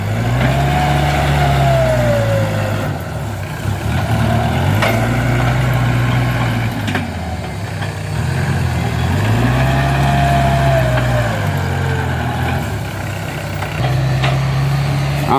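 A heavy dump truck's diesel engine rumbles loudly and close on a narrow farm road being filled in around a pig farm, rising and falling in repeated surges as it works and reverses.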